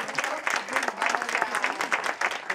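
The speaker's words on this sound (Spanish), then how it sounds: "este aplauso que les vamos a dar a todos los premiados y premiadas" Audience applause for award winners at the GetxoBlog Sariak 2017 prize ceremony, a dense, steady wash of many hands clapping that continues evenly throughout the clip.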